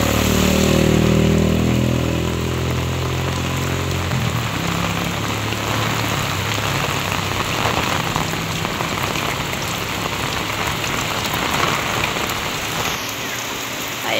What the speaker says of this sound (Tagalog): So, naman po kalakas ng ulan.